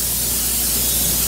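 Cooking oil sprayed into an air fryer, one short, close, continuous hiss of aerosol spray with no talking.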